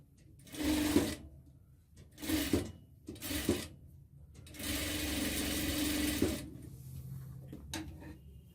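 Sewing machine stitching pants in short bursts, three quick runs then a longer steady run of rattling, whirring mechanism, close up, with faint handling noises in between.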